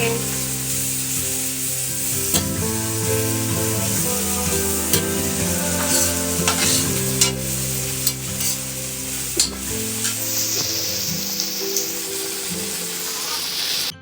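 Food frying in a pan in a home kitchen while pasta is being made, a steady close sizzle with stirring scrapes running throughout under a layer of tonal background sound.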